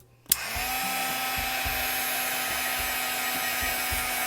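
A heat tool whirs on with a click and blows a steady, loud whine over glitter paper coated with embossing powder, a faint low ticking running underneath throughout.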